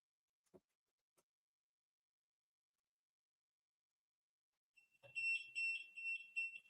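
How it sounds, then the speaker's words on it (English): An electronic alarm on a machine just plugged in: after a couple of faint clicks and near silence, a loud, high, rapid beeping starts and keeps pulsing steadily to the end. "I got an alarm as soon as I plugged it up."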